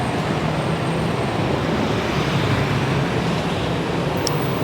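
Saigon city bus on route 139 pulling in amid dense traffic, a steady loud rumble of engines and road noise with no one speaking.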